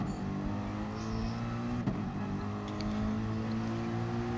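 Racing cars in a multi-division online racing game accelerate off the start line together, a dense, steady droning of engines with layered revving tones holding at even loudness throughout, without talk.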